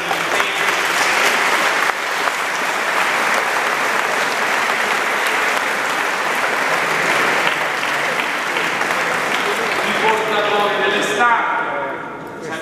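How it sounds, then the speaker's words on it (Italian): Sustained applause from an audience at the San Giacomo religious procession in Lauria, steady and dense throughout, with a crowd murmuring beneath and a brief pattering toward the end as the clapping thins. "che merita veramente un applauso"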